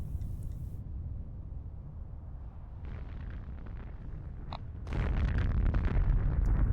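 Artillery and nuke explosions in a Factorio-style factory game: a continuous rumbling barrage of booms, softer at first and then swelling into a louder, denser roar of blasts near the end, with no talking.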